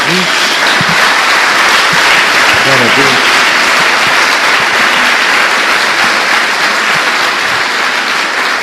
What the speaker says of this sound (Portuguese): Dê mais uma salva de palmas a Jesus.